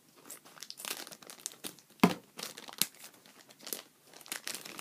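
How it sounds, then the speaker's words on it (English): Plastic packaging around a new video camera is cut and pulled open up close, giving quiet irregular crinkles, rustles and a few sharp snaps, without speech. "Actually, we'll use this just to cut this open."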